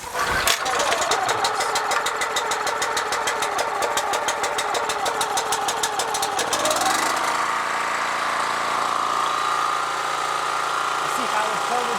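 A Honda-powered pressure washer engine with a freshly cleaned carburetor, fuel on and choke set, starts with a rapid mechanical chatter, then settles into a steady running hum, close and moderately loud.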